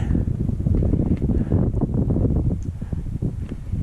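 Strong wind gusts over an evening lake shore, a continuous rough rumbling buffet against the microphone that stays loud and even throughout with no voices.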